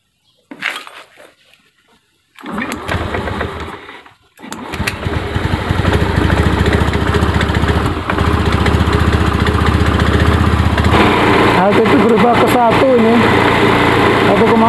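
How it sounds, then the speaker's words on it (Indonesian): A Honda Beat ESP scooter, with a clogged injector, starts up after a short crank and settles into a steady, close, loud idle, with people talking over the engine. "Sekarang coba kita hidupkan motornya ya."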